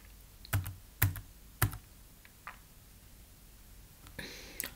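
Several sharp keystrokes on a computer keyboard while typing in a Linux terminal, a few distinct clacks spaced irregularly, close and fairly quiet, with a softer burst of clicks at the end.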